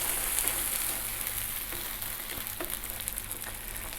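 Baked beans stirred into a hot pan over lowered heat, giving a steady close sizzle and bubbling hiss that runs throughout, with faint scraping from the mixing.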